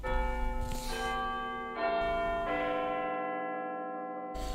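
A bell once used as a doorbell strikes a series of clear, ringing tones, each new strike layering over the slowly fading hum of the last, loud and close with no voices.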